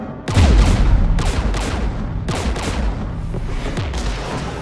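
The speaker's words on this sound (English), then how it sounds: "We're taking fire." Dense gunfire from the video game Mass Effect 3, with heavy booming shots and rapid overlapping bursts that continue without a break, loud and close, with low rumbling impacts underneath.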